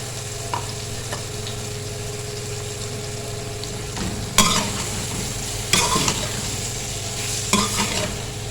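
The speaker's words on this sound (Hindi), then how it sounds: "अब इसी ऑयल में डाल देंगे प्याज" Finely chopped onions, three large ones, fry in oil with a steady close sizzle over a low background hum, broken by a few louder bursts of stirring and spattering.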